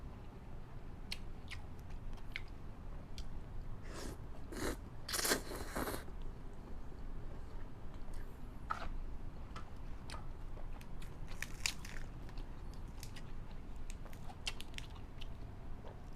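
Someone eats Isan-style pounded small rice noodles with shrimp, producing soft, scattered bites, slurps and crunchy chews at close range over a quiet background.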